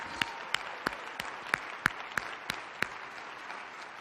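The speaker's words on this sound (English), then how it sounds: "Give yourself a big round of applause." Scattered, sparse clapping at a keynote on successful people, a few distinct claps spaced fairly evenly over soft background, sounding like a small or hesitant audience response.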